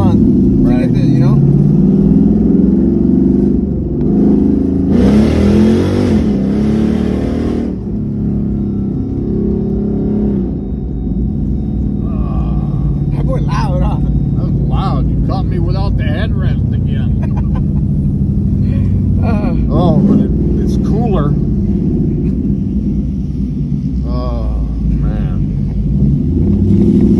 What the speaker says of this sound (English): Exhaust was ricocheting off that wall to the right.